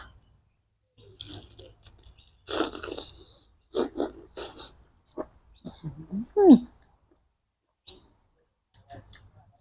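Crunchy squid being chewed in short bursts of crisp, close mouth crunches with pauses between, alongside brief vocal sounds, at a Thai spicy squid salad meal.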